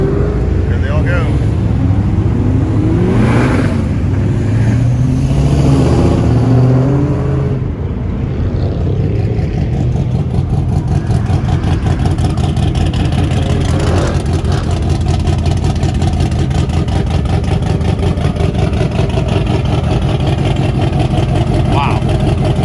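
Muscle cars and trucks, including a Hellcat and a 1965 Chevelle, pull away one after another in a cruise rollout, engines revving loudly up close under a steady crowd of voices and excited talk.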